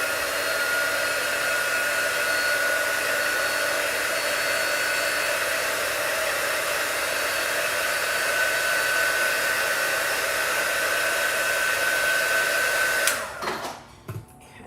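A hair dryer blows on chalk paint, a loud, steady whooshing roar that holds for several seconds and then cuts off abruptly near the end.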